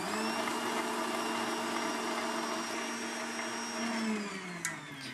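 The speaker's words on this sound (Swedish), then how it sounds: "Vispa det vitt och poröst." Eggs and sugar for a carrot cake whipped with an electric mixer, a steady high motor whine running continuously at close range, with a brief clatter near the end.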